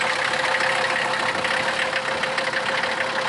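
A Mercedes car engine idles steadily on its first start of the year, a continuous even rumble with a faint knocking texture, close and loud, with no talk.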